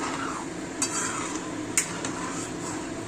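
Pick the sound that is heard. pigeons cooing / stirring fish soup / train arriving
stirring fish soup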